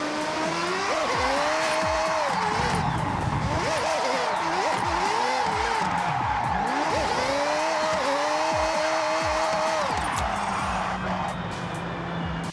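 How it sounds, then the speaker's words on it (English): In the Forza Horizon racing game, a car drifts on clutch kicks. The engine stays loud and revving throughout, with its pitch climbing and falling, and tire squeal sweeps back and forth across the whole stretch. "Another technique that is used in IRL drifting is a maneuver called clutch kick."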